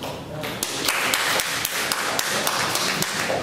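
Scattered clapping from a comedy show audience, loose taps and claps of moderate loudness continuing throughout without building to full applause, with voices talking at times.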